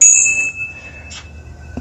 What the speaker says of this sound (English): It comes with a bell